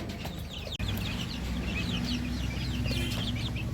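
Chickens cluck repeatedly nearby over a low, constant background hum, with a brief dropout near the start.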